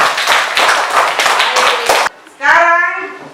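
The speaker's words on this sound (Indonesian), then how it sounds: "Tepuk tangan dulu." Children in a classroom clap their hands in several quick, loud, close bursts, and a short chanted group voice follows.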